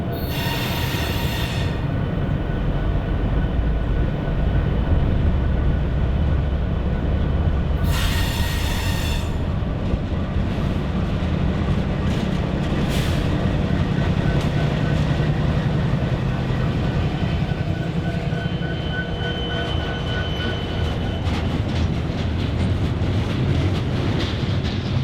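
Freight train L549 with a former CSX C40-8W and an NS SD70ACE locomotive in Michigan's Upper Peninsula rumbles past loudly and continuously, wheels grinding on rails with bursts of high squealing near the start and end.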